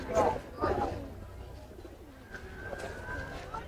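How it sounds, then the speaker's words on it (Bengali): Pigeons at a busy pigeon market beside a ferry ghat coo in low, throaty bursts nearby, mingled with market chatter and voices. "তো দেখেন কবুতরটা কিন্তু অসাধারণ সুন্দর"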